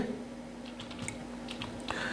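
Fairly faint clicks from a computer keyboard as someone types a search for Device Manager on a PC, with scattered keystrokes over steady room hum.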